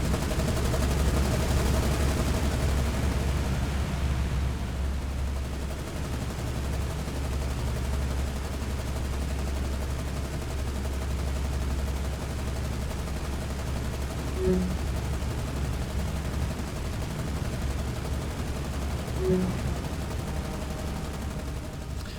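Naval bombardment gunfire in the War on the Sea video game, set in an IJN Pacific campaign: a steady low rumbling roar with a couple of brief faint reports standing out, no talk.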